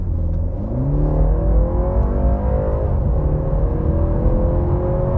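A BMW 330i G20 sedan accelerating in Comfort mode, heard from inside the cabin: a smooth, moderately loud engine hum that rises in pitch through the gears with a brief shift dip, no talking.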